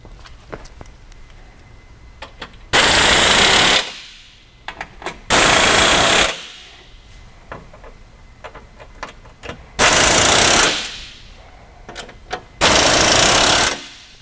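An impact wrench tightens the floorboard bolts on a Honda Pioneer 1000 side-by-side, firing in four loud, harsh rattling bursts of about a second each, separated by quieter handling clicks and pauses, close to the work.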